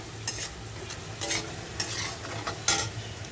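Mutton sizzling as it goes into frying onions for mutton jhol, a steady close frying crackle with repeated scraping stirs of a spoon against the pan.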